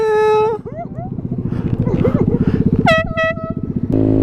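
Loud vehicle horn honks in bursts, a long steady blast at the start, another sounding twice near the end and a final blast, set against a rumbling engine and traffic noise with a voice talking in between.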